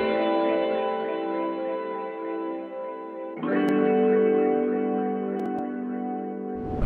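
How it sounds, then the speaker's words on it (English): A guitar one-shot sample from a melodic post-punk pack, a reverberant sustained chord that shifts to a brighter second chord midway, alone and fairly loud. "I start off with a little guitar right here, and it sounds like this."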